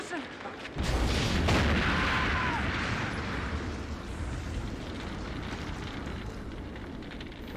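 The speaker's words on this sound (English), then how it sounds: "A cool explosion" A loud, sustained explosion from the horror film Jason Takes Manhattan, opening with a sudden boom and rolling into a long, roaring rumble that fades only slightly over several seconds, with no talk.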